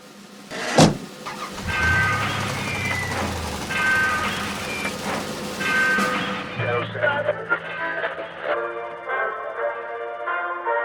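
A car door shuts with a single solid thud, then a car's motor and electrical whirring run on steadily and close by, with faint voices in the background.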